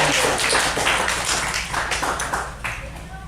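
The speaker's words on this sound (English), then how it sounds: "give yourselves a little bit of a round of applause" An audience at a Vroman's Bookstore presentation in Pasadena claps in a dense, even patter that thins out toward the end, close and fairly loud, with a voice briefly heard under it.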